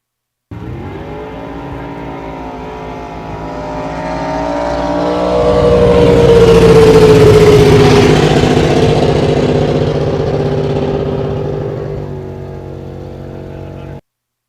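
The Cole 489 Chevy Mod Eliminator drag race car roars in a single long run at a drag racing event. The engine note swells to a loud peak mid-way, its pitch sliding downward, then eases off.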